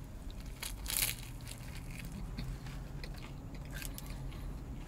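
Someone bites and chews crunchy broiled pizza from a vending machine, with quiet crackling crunches and chewing close by over a steady low hiss and no talk.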